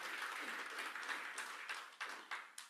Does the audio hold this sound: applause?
yes